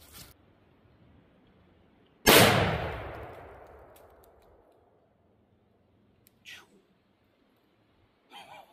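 A single rifle shot fired at a target cracks out loud and sharp, its echo decaying over about two seconds in open air, followed by a couple of faint brief rustles.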